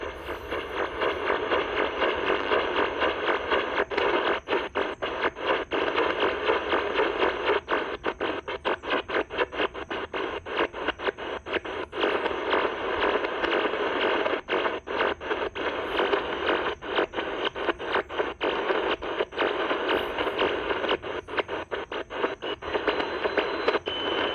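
Continuous shortwave radio noise between 13 and 14 MHz with dense, rapid repeating CODAR ocean radar sweeps and static, loud and steady throughout, with no voices.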